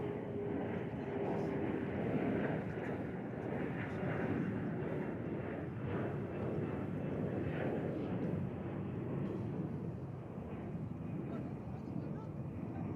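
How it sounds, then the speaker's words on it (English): An airliner, American Flight 2616, descending to land on runway 36 left at DFW Airport, a steady broad engine roar held throughout, fairly distant and unchanging in level. "It's coming in for a landing on runway 36 left here at DFW Airport."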